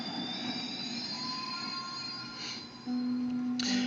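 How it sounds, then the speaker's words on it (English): A graffiti-covered New York subway train in a movie scene, with a loud continuous rumble and squealing wheels, a sustained high tone rising near the end as the train keeps moving. "This train that's got all of the graffiti on it"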